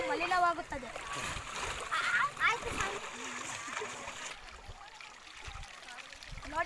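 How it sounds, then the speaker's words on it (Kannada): Water splashes and sloshes repeatedly as someone dips in a flowing river, with a steady stream running and faint voices mixed in. "ಈ ರೀತಿ ಮುಳುಗಿ ಮೂರು ಮೂರು ಬಾರಿ ಮುಳುಗಿ ಎದ್ದಾಡ್ಬೇಕು"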